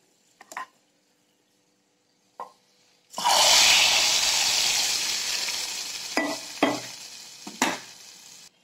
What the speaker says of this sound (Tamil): இப்போ தாளித்த முந்திரி பருப்பை இப்போ இந்த பாயசத்தில் சேர்த்துடலாம்